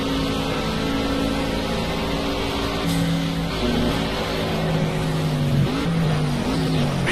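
Race car engines roaring at high revs, a BMW and a Rocket Bunny-kitted car battling on a circuit, droning steadily with pitch shifts as they change gear and brake, loud and continuous.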